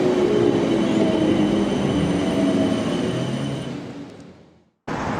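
A passenger train on the London and Southampton line rumbles loudly nearby with a steady roar and faint squeal, gradually fading as it slows, then cutting to another burst of rail noise.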